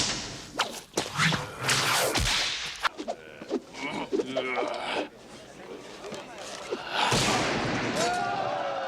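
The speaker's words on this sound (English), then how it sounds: "we built up a library of whip cracks, which was the basis for Indy's sound." Whip cracks recorded outdoors in an open field among trees for Indiana Jones sound effects: a rapid series of sharp, loud snaps and swishing lashes, close and irregular in rhythm.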